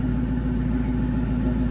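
A 1996 Ford Mustang GT Convertible engine idles with a steady, deep rumble, close and constant, without any voices.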